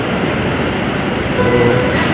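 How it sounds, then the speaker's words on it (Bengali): A Kolkata metro train pulls into Howrah underground station with a loud, continuous low rumble and a steady roar from the wheels, close at hand, briefly joined by a faint whine. "স্টেশন অলরেডি মেট্রো ঢুকে গেছে দেখতে পাচ্ছেন"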